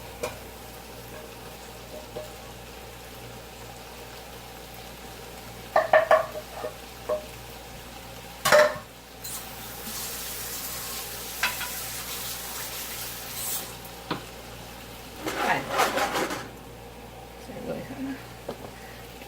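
Food sizzles in a hot skillet with a soft, steady hiss, broken by the clatter of utensils and pan handling. A person talks over it.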